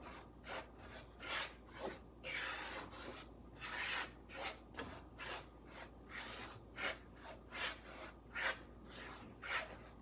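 Gram flour (besan) and coconut being stirred and roasted in a pan for barfi, heard as a steady series of dry scraping, rubbing strokes in a fairly regular rhythm, close and alone with no talk.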